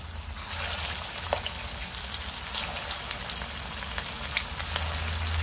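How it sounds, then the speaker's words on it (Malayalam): Snacks deep-frying in hot oil over a medium flame, a steady crackling sizzle like light rain with scattered sharper pops, close and fairly quiet throughout, with a low hum underneath and no talking. "മീഡിയം ഫ്ലെയിമിലിട്ടിട്ട് ഇത് വറുത്തെടുക്കാം"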